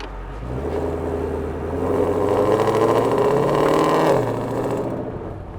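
A 2020 Ford Mustang GT500 with a track exhaust and resonator delete idles in normal mode, its deep, loud rumble climbing into a fuller rev before settling back down.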